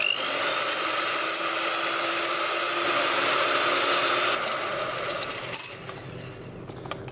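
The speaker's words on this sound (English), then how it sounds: "we're just going to whisk this on a high speed until we have soft peaks" Electric mixer on high speed whisking egg whites with salt and cream of tartar for Persian pistachio nougat, a steady close motor whir with beaters whipping, easing slightly near the end.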